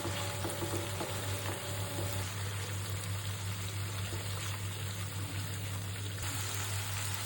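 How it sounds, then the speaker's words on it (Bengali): Spices with turmeric, chili, coriander, cumin and a cup of homemade tomato sauce fry in a pan, giving a steady, low sizzle throughout with a faint constant hum underneath and no talking. "টমেটো সস আর মশলাটা ভালো করে ভাজা ভাজা করব"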